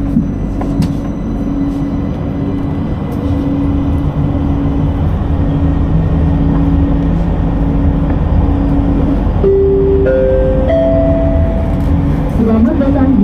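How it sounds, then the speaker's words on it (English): An LRT Jabodebek light-rail train on the Cibubur Line in Jakarta rumbles steadily as its doors close, then a rising, stepped electric motor whine builds as the train departs, with voice announcements over the carriage noise. "Doors are closing."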